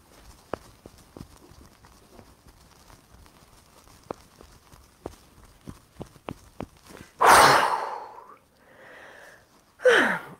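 Deep breaths during a breathing exercise: after a run of faint clicks and taps, a strong breath in rushes loudly near the microphone, followed by a softer exhale and another sharp breath.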